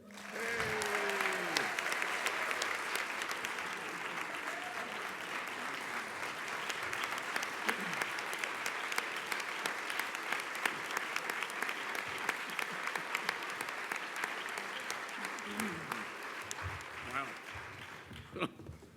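Audience at a childhood cancer summit on Capitol Hill applauding at length, a steady, full roar of clapping that runs for nearly twenty seconds with a voice briefly audible at the start and near the end.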